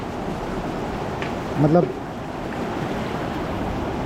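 Cold Alaknanda river water streams and rushes steadily around dangling feet, a continuous broadband flow with wind noise, and a brief voice speaks over it midway.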